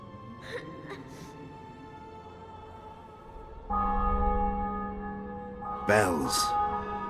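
Church bells ring in The Witcher 2 video game, sustained resonant tolls with long humming decay, one struck loudly midway and another near the end, with brief gasping and voice sounds early on.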